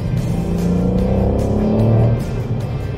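A Ford Fiesta ST Line with a three-cylinder engine revs under acceleration on worn tires, a loud, close, buzzing engine note that climbs in pitch and then eases off after a couple of seconds.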